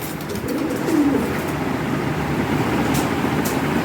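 Toy Lahori pigeons coo in low, throaty murmurs close by, steady and layered, with faint traffic noise in the background.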